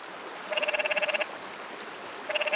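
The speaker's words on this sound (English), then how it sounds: "Our friend the canyon tree frog is back, and he's looking for a mate." A canyon tree frog calls for a mate beside a creek, giving two bursts of rapid, pulsing trills, the second cut short, over a steady hiss of flowing water.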